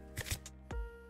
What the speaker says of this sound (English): I love the sound of cards shuffling.